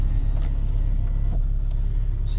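A Porsche Cayman S 987.2 engine idles steadily with a low, even rumble, close and continuous, with no voices.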